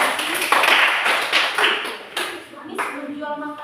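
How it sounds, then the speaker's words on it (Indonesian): Students in a classroom break into several bursts of brisk group clapping, fairly close and loud, with a voice speaking briefly toward the end. "tepuk tangan untuk pertanyaan ini"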